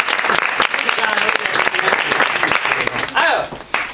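Audience applause at an Italian theatre performance of Romeo and Juliet, a loud, dense burst of clapping lasting several seconds, with voices mixed in beneath it.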